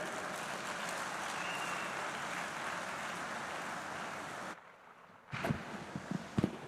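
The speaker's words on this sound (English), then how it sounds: "Once again, a big round of applause." An audience claps at an annual general meeting in Bangalore, giving a moderate, even wash of applause for about four and a half seconds. It then cuts off abruptly, leaving a few scattered thumps and handling noises.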